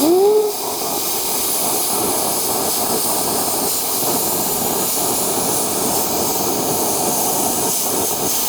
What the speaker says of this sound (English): going to use my Lincoln Tomahawk 375 plasma cutter for this